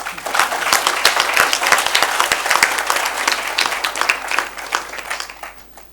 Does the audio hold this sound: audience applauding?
yes